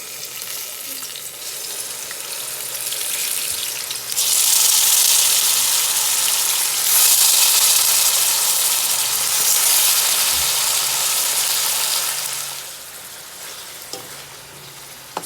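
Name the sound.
turkey wings sizzling as they are stirred in the pot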